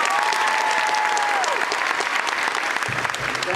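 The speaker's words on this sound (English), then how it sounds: "please clap" Audience applause at a school symphonic Christmas concert, clapping as a vote for the better decorated Christmas tree; dense, steady clapping from a large crowd fills the whole stretch at even loudness, with a faint tone fading early on.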